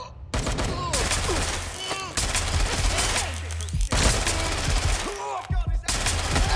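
Heavy automatic gunfire in the video game Watch Dogs Legion rattles in long bursts with short pauses, and shouting voices come through over the shots.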